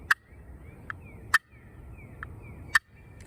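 A turkey call imitating a jake cluck gives sharp, loud single clucks in a sparse irregular series, alone against quiet background.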